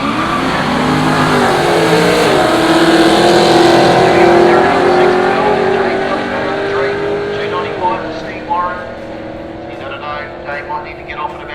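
Holden cars, including an SS, race at Willowbank drag strip during a night Street Series shootout: a loud, sustained engine roar rises and shifts in pitch, then fades into a lower rumble, with announcer commentary over it.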